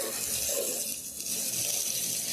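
Water sprays steadily from a hose during a car wash at home. The hiss is loud and continuous and broadband, with no voices.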